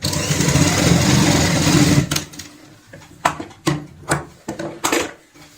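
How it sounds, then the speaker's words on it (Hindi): A sewing machine stitching a fabric bag purse runs in a steady whirring burst for about two seconds, then gives way to scattered clicks and rustling of handling. "यहाँ पे इसको सिलाई से अटैच करेंगे"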